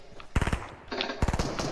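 Rapid automatic gunfire in a video game bursts out in two loud, clattering volleys separated by a short lull, with faint ambient game noise in between.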